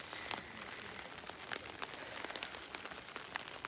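Rain pattering steadily at an outdoor tribal council during a voting session, a dense broadband hiss broken by scattered sharper drops and splats, moderately close and continuous without any speech.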